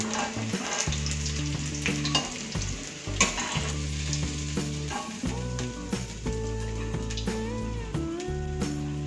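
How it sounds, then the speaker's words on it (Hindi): Rohu fish frying in a hot pan of oil, a steady close sizzle and crackle with intermittent stirring and clinks of a utensil, no talking. "अब हम वैसे ही बाकी भी अपने फिश को वैसे ही फ्राई कर लेंगे"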